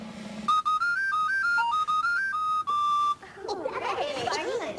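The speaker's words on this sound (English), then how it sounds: "let's see if I can blow a tune" A captain's whistle is blown as a simple tune in a children's TV show: a bright, piping sequence of short held notes stepping up and down, then it breaks off into a burst of noisy, clattering sound.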